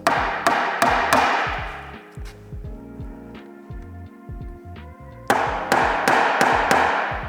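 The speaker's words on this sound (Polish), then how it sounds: "teraz zamontuję te mufy właśnie metalowe, wbijając to." A hammer drives metal threaded inserts into a compact countertop with a quick series of sharp, close knocks, a short ringing pause, then another burst of rapid strikes.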